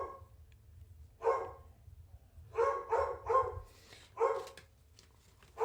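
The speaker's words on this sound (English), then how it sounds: "my dog is so mad right now" A dog barks indoors in several sharp, fairly loud bursts: one single bark, then a quick run of three, then one more, with a low hum underneath and no talking.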